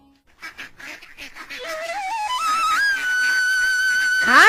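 Cartoon ducks quack in short harmonic bursts, then a bright whistling tone climbs in steps and holds steady, growing slightly louder toward the end, with no talking.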